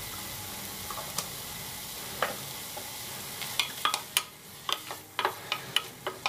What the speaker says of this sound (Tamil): இப்போ கொஞ்சம் இஞ்சி பூண்டு விழுது போடணும்